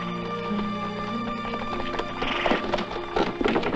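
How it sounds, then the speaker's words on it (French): Horses neighing and whinnying over steady clip-clop hooves, with livelier stamping and movement building toward the end. "Faites aussi monter 2 chevaux, il y a de la place."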